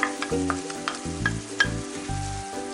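Spices and chopped parsley are stirred in a sizzling frying pan for a çökelek kavurma, with repeated scraping strokes and clinks over a constant close frying hiss.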